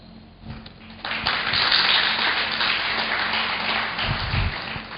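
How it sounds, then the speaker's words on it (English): Applause from the audience at a medical college lecture, dense clapping that swells after a second and holds steady and loud to the end, heard alone without talk. "Please give a big round of applause for Sir."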